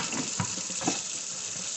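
Tap water runs steadily into a bowl in a home kitchen, ready for rinsing oxtails: a close, continuous splashing rush with a few brief louder spatters.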